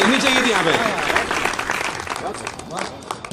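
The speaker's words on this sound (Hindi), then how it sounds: "बस इस पंक्ति पर ताली मिले, ताली बजनी चाहिए थी यहाँ पे।" Applause from an audience at a Holi celebration poetry recital in Indore, 2020, a moderate burst of clapping mixed with a voice speaking over it.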